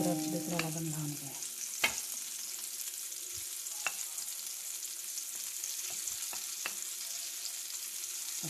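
Pomfret fish frying in oil in a pan gives a steady, close hiss of sizzling, broken by a few sharp clinks and taps of a utensil.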